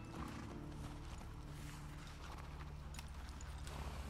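Horse hooves in the video game The Last of Us Part II clip-clop steadily and close by, with a neigh or whinny mixed in over a constant background.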